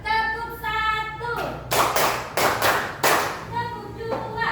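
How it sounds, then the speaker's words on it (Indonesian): Rhythmic group clapping at a positive-culture training session, a few sharp claps from a crowd of adults cutting through a speaker's voice in a room. "Tepuk satu"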